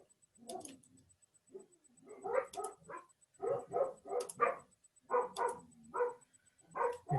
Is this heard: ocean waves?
no